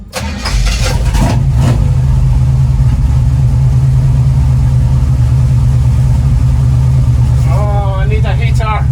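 A 1936 Chevy coupe engine starts and settles into a steady, loud low rumble during a test drive, with a brief voice near the end.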